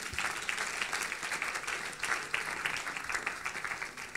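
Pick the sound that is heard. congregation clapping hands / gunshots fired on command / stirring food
congregation clapping hands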